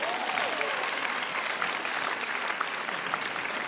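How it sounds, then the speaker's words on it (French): An audience at a high school students' eloquence contest final applauds a returning contestant, a dense, steady wash of clapping from a sizable crowd that holds even throughout. "applaudissez Clément qui revient"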